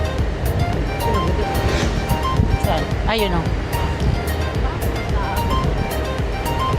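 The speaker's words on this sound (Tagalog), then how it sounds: "Mahangin na dito kasi nasa tabi na tayo ng dagat." Wind and surf rush steadily at a seaside beach near Secret Beach and Cloud 9. The roar sits under nearby people chatting and wind buffeting the microphone.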